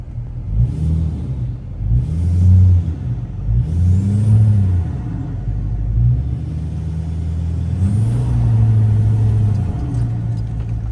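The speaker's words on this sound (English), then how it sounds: "It'd be mean to not let y'all hear what the greatest Duramax ever sounds like" A 2018 Chevrolet L5P Duramax High Country diesel pickup revved repeatedly, its deep exhaust rumble swelling and dropping in several distinct throttle blips, loud and close with no talking.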